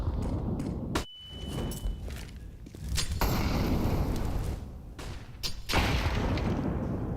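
A grenade bursts in a Counter-Strike match, a heavy boom near the start followed by further thuds and a rumbling, noisy wash of in-game combat that continues to the end.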